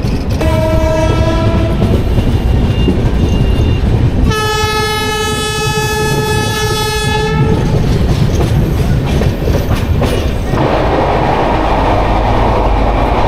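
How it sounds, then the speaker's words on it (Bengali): The Dhauli Superfast Express, running from Puri toward Shalimar after leaving Sakhigopal, speeds along the tracks with a loud, continuous rumble and rhythmic wheel clatter, while a long, sustained horn blast sounds twice, the second one strong and close. "আমাদের ট্রেন সাক্ষীগোপাল ছাড়ার পর মোটামুটি বেশ ভালোই স্পিড টানছে।"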